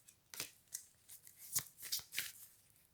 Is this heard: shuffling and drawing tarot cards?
yes